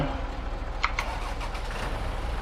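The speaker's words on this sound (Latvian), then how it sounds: "Ieslēdzam to dzinēju." A vehicle engine starts and settles into a loud, steady rumble that fills the whole stretch, with a couple of brief mechanical clicks in the middle.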